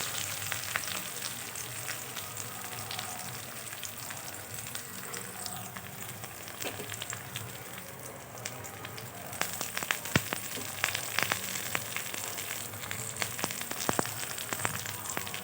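Steady crackling sizzle of curry leaves frying in hot oil with onions, with occasional louder pops and some stirring, continuous throughout.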